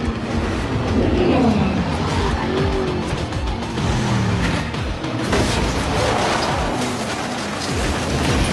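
Race cars roar during a movie race with weapons on board, engines droning loud and close while tires squeal and skid, over a dense, sustained mix of motor noise.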